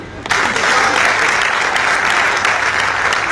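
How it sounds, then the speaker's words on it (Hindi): An audience at a Rajasthani poetry and song performance claps on request, a sudden loud burst of dense applause that holds steady and close throughout. "बजाओ ताली"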